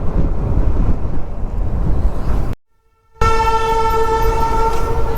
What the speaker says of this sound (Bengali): তাকিয়ে দেখো, বন্দে ভারত যাচ্ছে